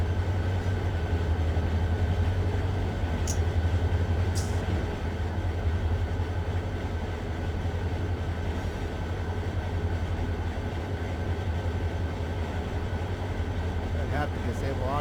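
A freight train rumbles in the Run8 train simulator game, a steady low engine drone with rolling wagon noise running continuously at close range, under an occasional spoken voice.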